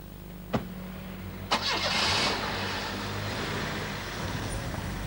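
A car engine cranks and catches after a couple of sharp clicks, then settles into a steady idle that carries on to the end, with faint road noise behind it.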